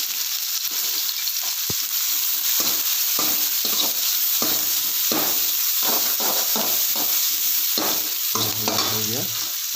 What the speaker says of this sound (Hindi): में हमने तेल डाला है, हमारा तेल गर्म हो चुका है, अब इसमें हम डालेंगे प्याज